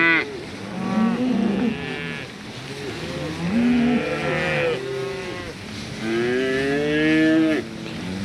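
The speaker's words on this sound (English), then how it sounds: "I didn't want Quinn to get out with those cows because they're honestly awful" Cattle on a ranch moo in long, drawn-out calls, several overlapping lows rising and falling close by over a quiet background.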